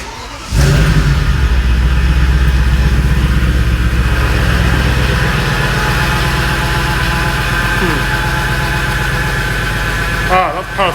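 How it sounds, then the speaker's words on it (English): An Audi RS6 engine idles steadily and loudly, close up, while the power steering pump whines from being low on fluid. The whine sits under the engine drone, which holds constant before easing slightly near the end. "That's power steering pump that's whining."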